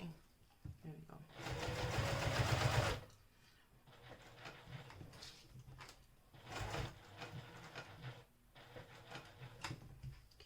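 A home sewing machine runs in a steady burst for about two seconds while stitching a small fabric project, followed by quieter handling, clicks and intermittent short runs, with a voice talking throughout.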